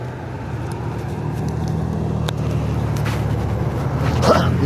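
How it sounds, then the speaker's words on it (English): Road traffic heard from a roadside spot, a steady wash of passing cars that swells slightly toward the end, with a few brief clicks and knocks and no clear speech. "Just sitting here watching the traffic."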